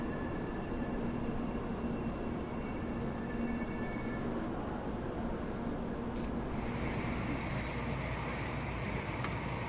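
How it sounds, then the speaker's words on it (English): A steady, broad rumble and rush of an express train passing in Japan, continuous and fairly loud throughout, with faint squeals high up. "An express train is running."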